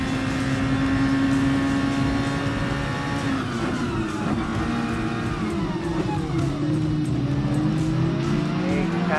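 Race cars in Gran Turismo Sport sweep past in a pack, with continuous loud engine roar, shifting pitch as they pass and some tire squeal; no one speaks.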